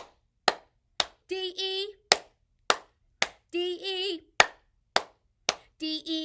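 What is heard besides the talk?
children clapping hands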